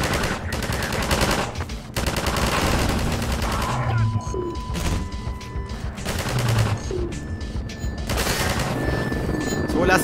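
Dense bursts of automatic gunfire from the Half-Life 2 video game crackle in long, loud volleys with brief pauses, joined by booming impacts and game effects, with no talk over them.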